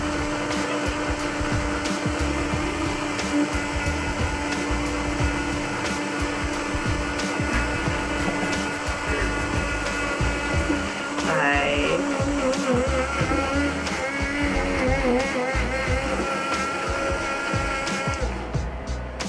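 A rechargeable portable fruit blender's small electric motor drones steadily and loudly for a long stretch, its whine wavering slightly as it spins without stopping.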